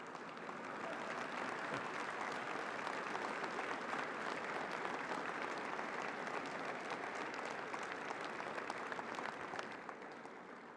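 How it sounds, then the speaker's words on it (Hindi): Sustained audience applause fills a large hall at the opening of the Bharat Tex 2024 textile event in New Delhi's Bharat Mandapam, a dense, steady wash of clapping lasting about ten seconds before easing off at the end. "इसमें तो ताली बजनी चाहिए ना भाई।"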